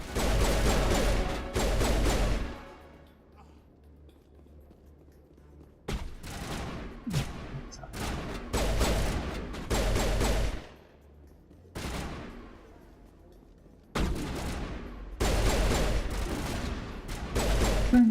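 Shotgun blasts in Mass Effect Legendary Edition: heavy, booming shots in several clustered bursts with short quiet gaps between them, loud and close, and no talking.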